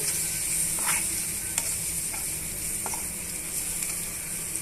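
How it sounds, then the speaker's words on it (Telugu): Coconut powder being stirred into chicken gravy in a pan, a steady sizzle with scattered scraping strokes of a spoon against the pan, close and continuous with no talking. "ఇప్పుడు ఇవన్నీ కూడా బాగా మిక్స్ చేసుకోవాలి"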